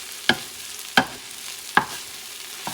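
A spoon or spatula stirs rice and sardines frying in a pan for Spanish rice, giving three sharp scraping strokes spaced under a second apart over a soft, steady sizzle.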